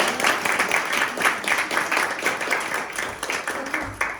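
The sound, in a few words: applause for two new Toastmasters members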